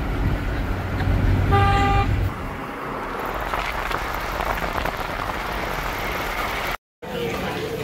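A train pulling into Kasara station sounds a loud, steady horn blast for about two seconds, followed by rumbling station and vehicle noise with a brief dropout near the end.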